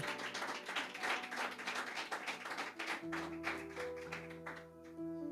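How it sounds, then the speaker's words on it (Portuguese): A church congregation applauds with rapid, scattered clapping, heard fairly faintly, while sustained organ or keyboard chords rise underneath toward the end. "uma salva de palmas"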